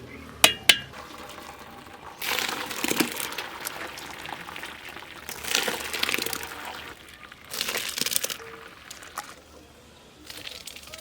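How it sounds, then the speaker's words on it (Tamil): Water is poured off cooked rice in a pot. A couple of sharp metallic clinks come first, followed by several rushing, splashing pours of water, each lasting about a second, close by with quieter gaps between them. "சாப்பாடு வெந்துருச்சு. நம்ம வடிச்சுக்கலாம்."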